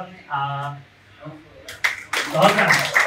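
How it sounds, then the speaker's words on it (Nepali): An audience bursts into applause to welcome a scientist. A voice speaks briefly first, then a few scattered claps grow into dense, steady clapping. "एकचोटि हाम्रो वैज्ञानिकलाई जोरदार तालीले स्वागत गरेर हार्दिक धन्यवाद"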